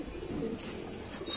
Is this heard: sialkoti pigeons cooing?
yes